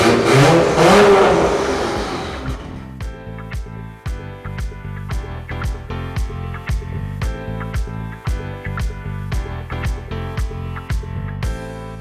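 A Nissan Skyline R33 with a full titanium exhaust roars in a loud rev at first, then settles into a steady run of rhythmic, repeated pulses and blips that continue to the end.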